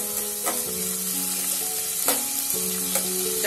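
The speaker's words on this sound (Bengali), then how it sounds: "সেরকম ভাবে চিংড়ি মাছটা ভাজতে হবে" Prawns frying in oil for a Bengali jackfruit curry: a dense, continuous sizzle close by, with a few louder spits and a faint tonal melody running underneath.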